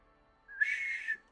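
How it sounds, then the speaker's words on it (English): A single sharp, high whistle rises abruptly, holds steady for under a second, then cuts off, clear and close against near silence. "you hear a real sharp whistle"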